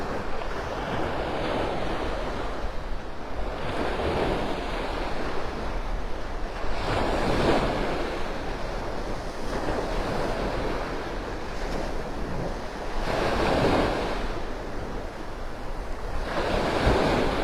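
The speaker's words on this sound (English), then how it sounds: "An extra blast of serotonin with these waves." Ocean waves break on the beach at Delnor-Wiggins in North Naples, Florida, during a morning walk. Surf surges roll in every few seconds over a steady wash of wind and water, close and fairly loud, with no voices.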